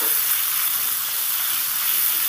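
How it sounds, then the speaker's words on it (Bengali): Sliced onions and slit green chilies fry in hot oil with tempering spices, a steady close sizzle hissing throughout with no pauses or talk. "দিয়ে দিচ্ছি চেরা কাঁচা লঙ্কা আর পেঁয়াজটাকে সুন্দর করে ভাজতে হবে।"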